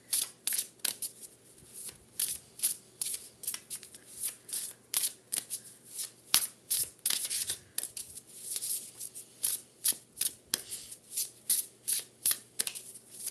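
Oracle cards shuffled and drawn by hand, a long run of crisp riffling bursts and soft slaps in a steady rhythm, close and clear with no talking.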